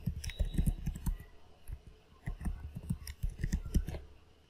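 Keys clacking in quick, uneven bursts as a password is typed on a computer keyboard, close and crisp with short pauses between runs of strokes.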